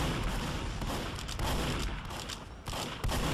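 Rapid bursts of shotgun and other gunfire in a competitive team shooter match fill the clip loudly and continuously, with sharp overlapping blasts and thuds and no clear talk.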